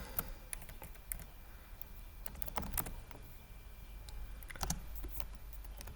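Someone types on a computer keyboard, with irregular bursts of clicky keystrokes and short pauses between them, close and fairly quiet over a low room hum.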